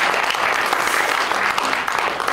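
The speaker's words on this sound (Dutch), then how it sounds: "Geef zo Rikke een heel groot applaus." A crowd applauds loudly and steadily, a dense wash of clapping hands with no pauses.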